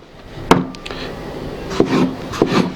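Eggplant being cut into cubes with a knife on a board: a few close, soft chops and scraping strokes spaced apart, quiet and without talk.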